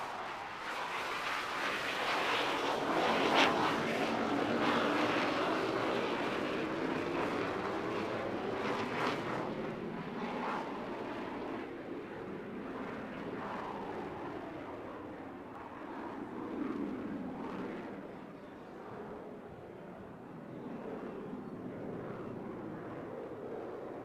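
A display aircraft at an airshow pitches up into a slow dirty roll to the right below 200 knots, its engine a broad, loud continuous roar that swells and recedes steadily as it passes.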